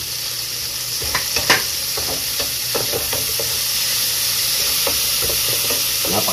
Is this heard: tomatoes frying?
yes